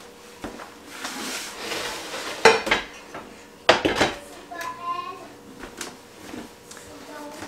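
A cast iron pan is set down on a stovetop with a sharp metallic clank, amid clattering dishes and cutlery at close range and a voice speaking in the background.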